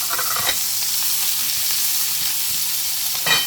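Onions and peppers frying in a hot pan: a loud, continuous close sizzle with a couple of brief surges as the vegetables are added and moved.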